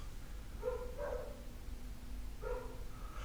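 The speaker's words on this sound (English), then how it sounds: "My dogs are going crazy." Dogs barking faintly somewhere in the house, a few muffled yaps in two short bursts over a low, steady background hum.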